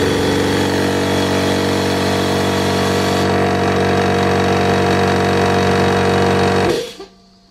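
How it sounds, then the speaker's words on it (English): A repaired Clarke air compressor runs with a loud, steady motor drone and mechanical hum for about seven seconds, then shuts off abruptly and falls silent. "if you need to fix your Clarke air compressor, or indeed any air compressor for that matter, rather than throwing it away"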